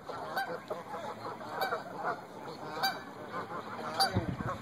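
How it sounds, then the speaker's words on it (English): Loud ducks at a park pond with a bridge and gazebo quack and call repeatedly in overlapping bursts, fairly close, over a constant outdoor background. "These ducks are loud today."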